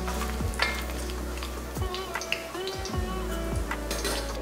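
Curry leaves drop into hot oil already holding a bay leaf and cashews, raising a steady close sizzle broken by a few soft spoon or pan clinks, with no voices.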